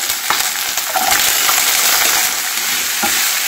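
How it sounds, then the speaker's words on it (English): Squeezed bitter gourd pieces, soaked in buttermilk, fry in a pan with a steady, close crackling sizzle and occasional stirring scrapes throughout. "So just frying the Bitter Gourd for about 2 to 3 minutes."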